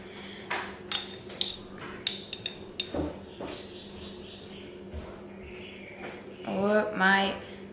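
A spoon lifts hot chia jam onto a rice cake, making a scattered run of small, sharp clinks and scrapes against a dish up close, with a voice briefly heard near the end.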